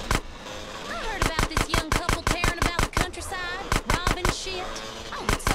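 Gunfire in GTA San Andreas, loud sharp shots in quick irregular bursts, separated by brief pauses, with voices talking between the shots.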